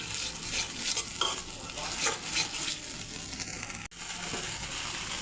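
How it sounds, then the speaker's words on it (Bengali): Spices including cumin powder are sautéed in a pan, with a continuous sizzle of frying under repeated scraping stirs from a spatula. The sound is close and moderately loud, and no one speaks. "মশলাগুলো ভালোভাবে কষিয়ে নেব"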